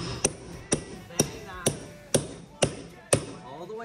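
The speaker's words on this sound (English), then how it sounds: "Now what we're gonna do is we're gonna take our stair tool and our trusty hammer" A hammer striking a stair tool while installing a stair runner, seven sharp evenly spaced blows about half a second apart, close and loud, with a faint room background between hits.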